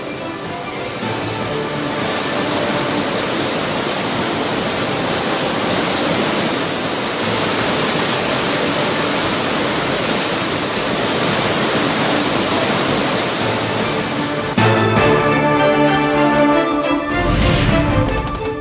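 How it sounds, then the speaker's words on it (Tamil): Thirparappu waterfall in Kanyakumari district in flood, a loud continuous roar of heavy falling water close by, unbroken for most of the span before a brief shift in tone near the end. "கன்னியாகுமரி மாவட்டம் திருப்பருப்பு அருவியில் வெள்ளப்பெருக்கு."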